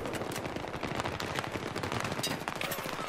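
Rapid gunfire from a first-person shooter video game, with dense overlapping shots and bursts continuing loud and steady throughout.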